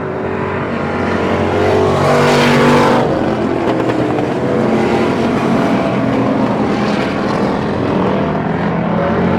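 Stock cars racing at the Pearsonville track in California during the Turkey Classic, a loud sustained roar of several engines with a swelling pass-by near the start, continuous and dense throughout.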